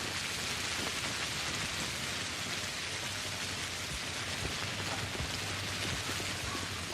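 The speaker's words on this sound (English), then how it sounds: "That rain sure is loud." Loud, steady rain pours down in the video game Pathologic, a dense, even hiss of drops with a low rumbling undertone and no voices over it.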